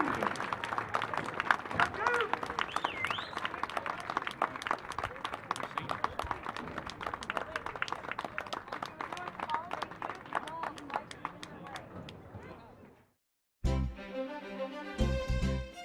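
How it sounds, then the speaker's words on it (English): Crowd at a 2005 high school varsity baseball game applauding graduating seniors and their parents: steady, dense clapping and cheering that runs for about thirteen seconds, then cuts out briefly before a different sound starts. "let's give a big round of applause for our 2005 graduating seniors and their parents"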